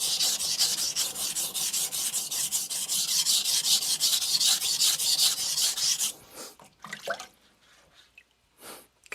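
An Aogami 2 steel bunka knife grinds against a Shapton Glass 220 stone in steady, close, rasping strokes for about six seconds. Then the scraping stops, leaving a few scattered knocks and a brief drip-like sound.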